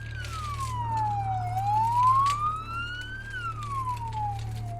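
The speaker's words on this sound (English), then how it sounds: "The sound of approaching sirens can be heard" An ambulance siren wails in long rising and falling sweeps, steady and fairly loud, over a constant low hum with no talking.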